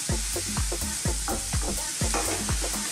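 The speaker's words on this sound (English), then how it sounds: "Let's saute these in there and get all those flavours happening." Vegetables sautéing in a pan over medium-high heat for a vegan veggie loaf, steady sizzling broken by regular rhythmic scraping strokes of a stirring utensil, close and clear with no talk.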